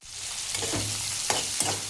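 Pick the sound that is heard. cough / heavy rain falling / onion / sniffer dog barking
onion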